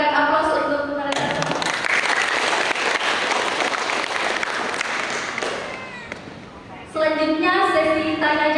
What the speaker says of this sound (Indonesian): Mari kita berikan aplaus untuk mereka.